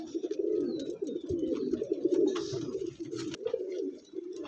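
Andhra pigeons, including a red-eyed one, coo continuously up close in a low, throaty warble that swells and dips, with no talking.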